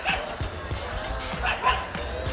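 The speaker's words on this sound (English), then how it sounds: "Oh, the dog's barking." A dog barks repeatedly in short yips, faint and distant, under a steady outdoor background on a trek near a river in the mountains.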